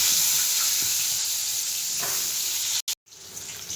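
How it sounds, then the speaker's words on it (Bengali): Papaya and potato frying in a pan with black cumin seeds for a Bengali pabda fish recipe, a close, steady sizzle and hiss with faint stirring, briefly cut out near the end. "পেঁপে আলু ভেজে নেব।"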